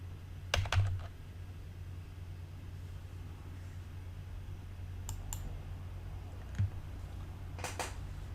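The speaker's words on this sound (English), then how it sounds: "rather than having to put up with me painfully typing it in" Scattered keystrokes on a computer keyboard, a few light clicks spread over several seconds while code is entered, heard faintly over a steady low hum.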